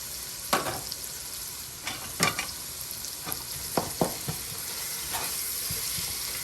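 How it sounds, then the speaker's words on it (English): Ground beef browning in a pot, giving a steady soft sizzle and frying hiss, broken by several sharp scrapes and clacks of stirring, close and moderately quiet with no talking. "So we're browning this ground beef."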